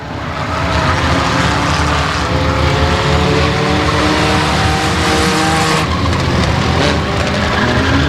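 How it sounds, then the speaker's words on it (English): Four-cylinder race cars in a main event at Rose Bowl speedway in Winona, engines roaring loud and steady as the pack circles the track, with a brief dip before the drone swells again; no talking. "Stables winding down the laps here in Winona in your 4-cylinder main event."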